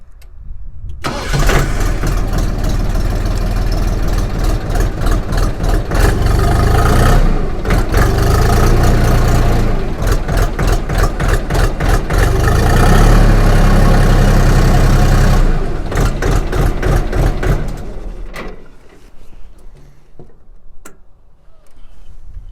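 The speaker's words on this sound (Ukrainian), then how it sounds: "Послухаємо, як працює юдашний движок." A Kentavr 244S diesel tractor engine cranks and catches, then idles loudly with a steady chugging knock for many seconds before shutting off into quiet.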